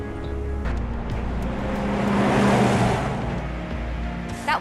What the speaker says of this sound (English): That's a Shinra truck, isn't it?